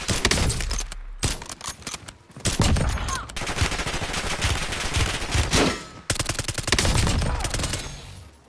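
Heavy gunfire from the video game Warzone, dense rapid bursts and automatic fire rattling almost continuously at loud level, with brief pauses between volleys and faint game voice lines underneath.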